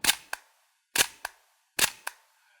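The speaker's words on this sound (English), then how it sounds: "And then you wind the film and open it up again, and 3 more times." Film being wound on an Italian-made camera, three sharp mechanical clacks each followed by a quieter second click, evenly spaced and close, with no talking.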